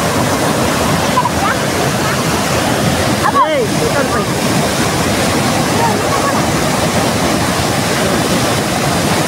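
A strong current of flowing water, river or waterfall, rushes outdoors as a loud, unbroken roar that stays dense and even throughout.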